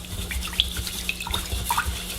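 Water running off rinsed rice in a kitchen sink, the milky starchy rinse water splashing and trickling steadily at close range with a few brief drips, no voices.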